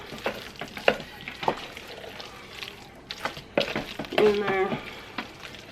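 Food is stirred in a hot frying pan for a simple home-cooked family meal. Scraping stirs come in bursts over a steady sizzle, and a voice speaks briefly.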